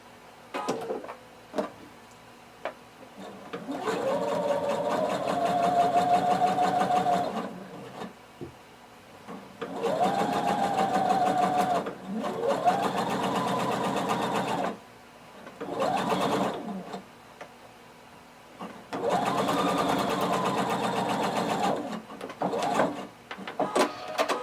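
A sewing machine stitches a pant or shorts seam about a quarter inch from the pinned edge, running in several bursts of a few seconds each, separated by short pauses and handling noises.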